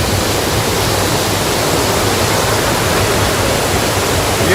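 Athirapally waterfall in Kerala roars up close as a steady, dense, loud wash of falling water with no break, filling the whole scene without voices.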